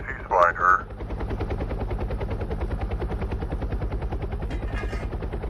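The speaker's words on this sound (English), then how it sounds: "A helicopter? Really?" A helicopter arriving at a traffic accident scene, its rotor chopping in a fast steady beat close by and loud, continuing throughout, while a short burst of speech sounds over it at the start.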